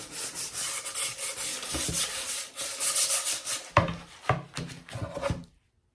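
Wooden pieces from thrift-store finds being distressed by rubbing and scraping, a close, continuous abrasive rasp with a few sharper knocks near the end before it stops, no voices.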